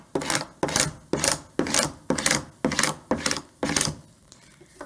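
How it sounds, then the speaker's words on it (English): Cricut scraper burnishing vinyl transfer tape on a welcome sign, eight rhythmic rasping scrape strokes in a steady back-and-forth pattern, close and fairly loud with no talk. "for good measure, I'm just going to burnish one more time"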